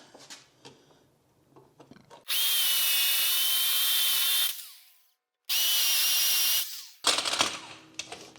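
A power drill bores holes for a lumber rack, sounding as two loud, steady high-pitched whines of about two seconds each, separated by a brief pause, with some clattering handling noise before and after.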